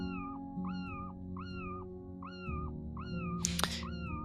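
Cartoonish cat meows from the Sudocats puzzle game repeat in an even rhythm, about six bright meows over a low steady music bed, with a short hiss-like burst near the end.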